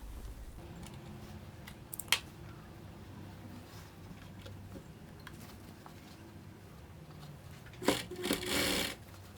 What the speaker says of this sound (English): I'm just gonna fold the second edge again and do a top stitch